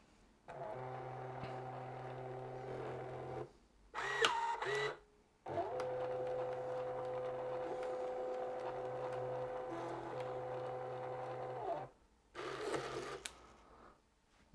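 An Epson LW-900P label printer runs in two long whirring printing passes, each broken by short mechanical clicks and a whine from the cutter or feed, all close and fairly quiet.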